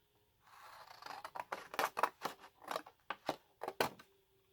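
Scissors cut open a line on a glittery card, giving a close run of about a dozen crisp, rhythmic snips over a few seconds with no talk.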